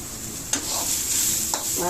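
Close steady sizzling as ingredients sauté in a pan for a mushroom-style vegetarian curry, broken by two sharp spatula scrapes roughly a second apart.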